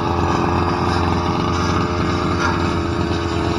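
A grass cutter runs at steady high revs, a loud continuous buzzing engine drone close by, without pauses and with no talking.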